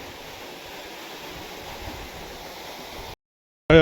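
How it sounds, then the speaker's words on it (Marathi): Water gushing from an Ecozen 5 HP solar pump drawing from eighty feet: a steady, even rushing roar held for about three seconds, then a sudden cut to silence and a short loud burst at the end. "एकोझोन कंपनीचा कशा पद्धतीने पाणी मारतोय पाच एच पीचा"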